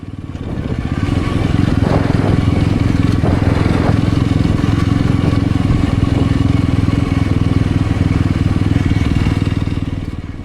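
A 2025 Yezdi Roadster motorcycle riding along village roads, its engine droning loud and steady with heavy wind rumble throughout, close to the rider.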